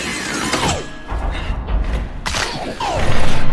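A door swinging open in a dramatic scene, its mechanism giving a loud metallic creak and grinding with two sliding squeals, followed by a heavy rumbling clunk.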